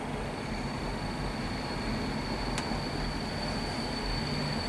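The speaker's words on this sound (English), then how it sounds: "the loud trains decide to go past as soon as I do a review" Passing trains rumble loudly and steadily close by, a continuous broadband roar with a brief sharp metallic squeal partway through, no voices over it.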